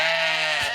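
Sheep at an old farm barn bleat for their feed, a single loud, close, drawn-out cry that fills the moment with no talking.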